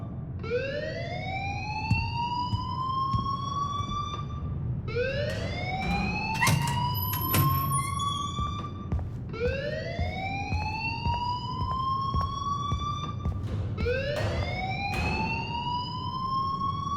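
A school alarm ringing in the video game Life is Strange, a rising wailing siren that sweeps upward repeatedly about every four seconds, loud and continuous over a low rumbling hum, with brief clicks in between.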